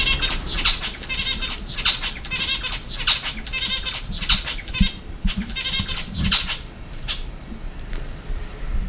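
A pet bird chirps in repeated bursts of bright, high tweets close by, alternating with quieter stretches of low household noise.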